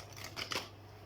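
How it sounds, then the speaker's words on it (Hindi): Tarot cards shuffled by hand, a short soft riffle of card rustles and flicks close to the microphone over a low steady hum. "तो हम सबसे पहले कार्ड शफल कर लेते हैं।"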